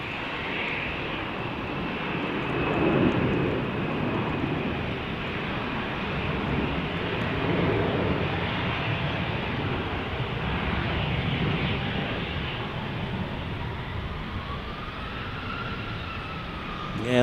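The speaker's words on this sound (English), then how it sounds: "Listen to those engines roar." Jet airliners depart a runway at Salt Lake City, their engines roaring in a broad, steady wash at moderate distance, swelling and easing over about seventeen seconds with no talk.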